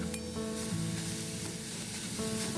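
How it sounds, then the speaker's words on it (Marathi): Grated carrot sautéing in a pan over a low flame for carrot kheer, a soft, steady sizzle with faint stirring scrapes running throughout, close and even, with no voices. "आपल्याला आता हा 7 ते 8 मिनिटं बारीक गॅसवर परतवून घ्यायचा आहे."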